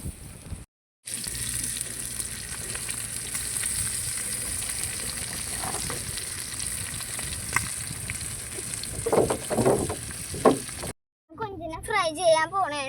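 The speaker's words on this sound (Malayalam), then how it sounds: "കൊഞ്ചിനെ ഫ്രൈ ചെയ്യാൻ പോണേണ്." Freshly caught prawns fry in a pan with a continuous hiss and sizzle, with voices talking nearby and a short burst of louder activity near the end.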